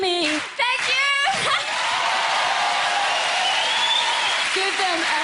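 An audience applauds at a concert, a dense wash of clapping with whoops and cheers that swells after a shout from the stage and keeps going loudly.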